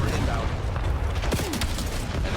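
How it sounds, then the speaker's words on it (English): Call of Duty: Black Ops match with explosions and gunfire, a dense rumble of booms and sharp cracks layered close together, while a voice talks over the din. "There's too many effects, too many explosions."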